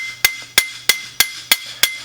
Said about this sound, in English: always use a plastic mallet, not a claw hammer